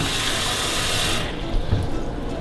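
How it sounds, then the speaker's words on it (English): A cup of water is poured into a breakfast bread batter in a loud, steady, rushing stream that cuts off after about a second, leaving a few soft splashes and sloshes. "I'm gonna add a cup of water."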